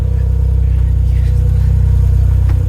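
An Autozam AZ-1 kei sports car fitted with a Keisport ECU idles close by on a cold day, its engine giving a steady, even low rumble with no revving.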